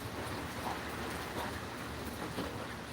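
Steady rain falls outside at night, a dense, even hiss of drops on surfaces that holds at a constant moderate level throughout, with no voices.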